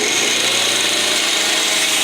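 A tired 4.5-inch, 120-volt, 4.2-amp angle grinder runs steadily on power from a Champion 1850-watt generator, giving a loud, continuous whirring drone with no pauses or talking.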